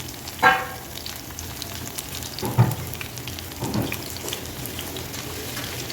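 Cauliflower 65 fries in oil with a soft, continuous sizzle, broken by a few louder bubbling pops and stirring bumps, and no voices are heard.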